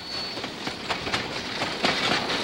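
A Colorado narrow gauge passenger train rolls along the rails in the Toltec Gorge region, a loud continuous rumble broken by rhythmic wheel clicks and a faint high squeal.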